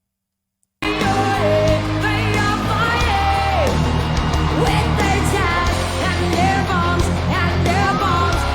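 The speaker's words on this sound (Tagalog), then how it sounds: "Grabe yung hiyawan ng mga tao, talagang hindi mapigilan yung sigawan sa kanya." A big talent-show audience screams and cheers for Nene Royal at America's Got Talent, a loud, sustained wall of yelling and whooping that erupts suddenly and stays at full volume without pause.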